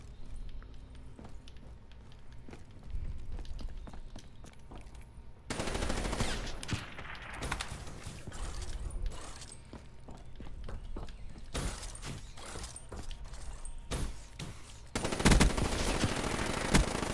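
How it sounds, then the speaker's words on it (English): Machine gun fire in Call of Duty Black Ops 3 during a one-on-one match, with loud rapid bursts that start and stop repeatedly in several sustained volleys, mixed with clicks and game effects. "why are you using that fucking machine gun?"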